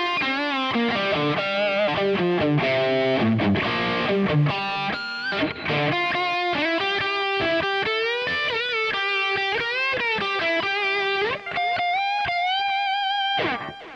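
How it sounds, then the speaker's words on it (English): A distorted lead electric guitar tone from a NUX Mighty Plug Pro headphone amp plays a loud, sustained melodic line of bent notes and runs, thick and saturated, with no talking over it. "This next one is just another distorted tone. I use this one kind of for leads"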